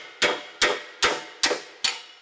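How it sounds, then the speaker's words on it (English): Five sharp, evenly spaced metal hammer blows on a punch, driving a slightly bent tube out of a Rogers 60-ton hydraulic press, each strike ringing briefly and close with no talk. "I'm gonna have to get a punch and drive that out."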